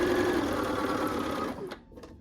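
A sewing machine stitches quilt fabric in a fast, steady whirring run that stops abruptly after a second and a half, followed by a couple of brief mechanical clicks.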